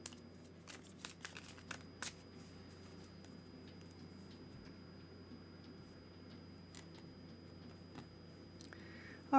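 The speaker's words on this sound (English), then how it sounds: "I'm going to do that while I give the deck a really good shuffle for you." A deck of tarot cards is shuffled repeatedly in a quiet room, crisp riffling bursts and soft taps spread over several seconds.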